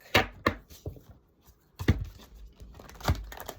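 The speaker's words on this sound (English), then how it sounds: "Oh, I'm not very good at shuffling at all." Deck of energy cards being shuffled by hand in short, uneven bursts: a few sharp slaps and riffles close to the microphone, separated by brief pauses, without speech.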